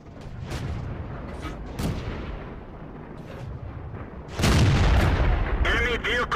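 Tank cannon fire in World of Tanks, a few booming shots over a dense rumble of game noise and engine drone, with a louder, heavier blast near the end.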